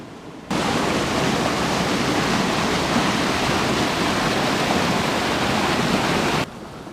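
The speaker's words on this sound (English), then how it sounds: "Down in the rapids." River rapids in the Northern Ontario wilderness rush in a steady, dense roar of water that stays loud and constant, then cuts off abruptly.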